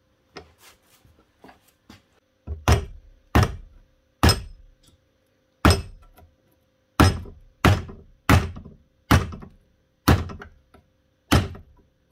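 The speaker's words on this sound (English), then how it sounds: "clamp it in the vise again, and then beat down this side here, down flat, so it stays on" A hammer strikes a chisel clamped in a vise to beat metal flat while repairing a Dewalt cordless driver: about a dozen sharp, close thunks at an uneven pace, a few light taps first, then heavier blows.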